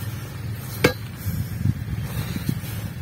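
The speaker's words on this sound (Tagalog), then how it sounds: "Ang bareta, yung tunog ng bareta talagang makansing." A steel crowbar strikes hard, compacted ground while digging a deep hole, one sharp metallic clank standing out, followed by softer thuds and scrapes at irregular intervals, close by with no talking.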